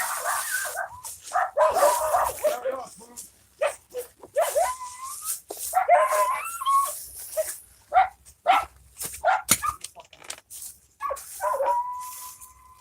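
A dog close by gives repeated high yips, whimpers and short barks in irregular excited bursts, with gaps of quiet between them and no talking.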